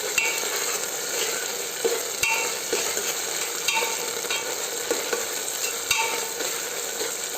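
Ginger garlic paste frying in a pan for dal khichdi, with a steady sizzle and bright crackling hiss throughout and occasional stirring clinks and scrapes of a utensil, close up and with no talking.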